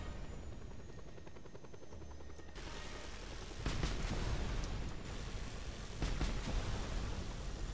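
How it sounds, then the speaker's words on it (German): Helicopter flying slowly in the video game Just Cause 2 multiplayer mod, a steady rotor drone with loud bursts of gunfire-like cracks partway through, no talk. "Das ist einfach ein langsamer Helikopter."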